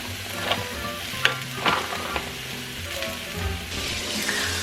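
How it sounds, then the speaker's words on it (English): Broccoli hits a hot frying pan and sizzles steadily, with a few louder crackles and stirring clatters over the continuous hiss; no talking. "So I'm gonna throw a little bit of broccoli in here too, just so we have some greens"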